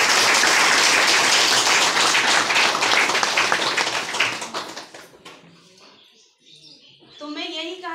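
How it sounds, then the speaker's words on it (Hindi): Loud, dense applause from an audience at a business gathering in Jharkhand fills the first five seconds, then fades out as a voice resumes speaking. "उस सर के लिए एक बार जोरदार ताली"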